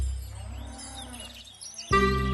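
A cow lowing in a single drawn-out, mid-pitched moo, fairly close and alone, ending with a sudden brighter tonal sound.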